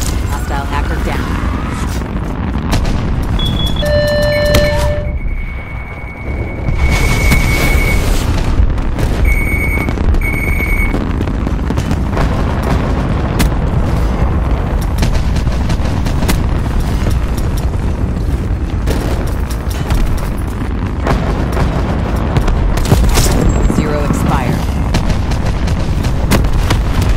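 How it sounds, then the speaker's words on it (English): Cluster grenade blasts in Call of Duty: Black Ops 4 roll into a loud, sustained rumble of overlapping booms, with short electronic beeps and tones cutting through the noise. "Cluster grenade."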